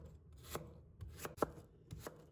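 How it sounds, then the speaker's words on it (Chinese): A knife cutting a peeled potato into strips on a board, about five crisp chops at an uneven rhythm, close and fairly quiet, with no voices. "再改刀切成长条"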